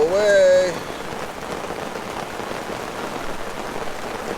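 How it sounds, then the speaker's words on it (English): Heavy rain pours steadily onto a tent during a thunderstorm while camping in Algonquin Park, making a dense, continuous hiss close by; a brief exclaiming voice opens the clip before the downpour carries on alone. "Holy Batman, it's pouring"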